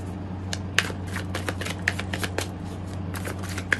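Tarot cards are shuffled by hand in quick riffling bursts, crisp close papery flutters and snaps repeating over a few seconds, with no talking.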